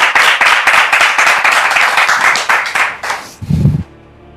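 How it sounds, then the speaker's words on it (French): A church congregation applauding during a service, dense loud clapping from many hands that thins and breaks off after about three seconds, followed by a brief low thump. "Est-ce qu'on peut les encourager avec des applaudissements?"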